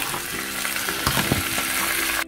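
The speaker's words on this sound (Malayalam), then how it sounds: "ഞാൻ ഇതിലേക്ക് ഇടാൻ പോകുന്നത് നമ്മളെ വേവിച്ചു വെച്ച കോഴിയാണ് ഈ നെയ്യിലേക്ക് ഇടാൻ പോകുന്നത്" Cooked country chicken sizzling and frying in hot ghee for a Malabar biryani, a steady loud crackle with a few clunks of stirring, stopping abruptly near the end.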